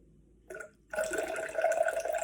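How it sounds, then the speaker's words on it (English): Apple cider vinegar poured into a liquid mixture: a brief trickle, a pause, then a steady, close splashing pour that continues to the end, with no talking. "This, what I'm pouring in, is apple cider vinegar."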